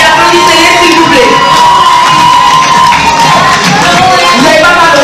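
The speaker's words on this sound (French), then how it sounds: "Levez-vous et applaudissez-les, s'il vous plaît." At a Kinshasa fashion and couture show, a crowd roars with loud, sustained cheering, whoops and shouts, dense and unbroken from start to finish, close and very loud.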